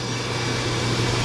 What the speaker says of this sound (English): if you can hear that loud noise behind me, that is my 3D printer over here